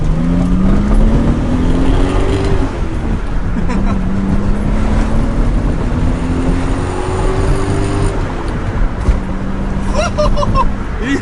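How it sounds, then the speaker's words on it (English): A 1970s Datsun 280Z six-cylinder engine with a stock exhaust revs up repeatedly from inside the moving car, rising and falling under steady road noise while someone talks over it. "This is 70s 6-cylinder engine with basically a stock exhaust, and it sounds so good."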